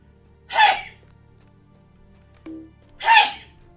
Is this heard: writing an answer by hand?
no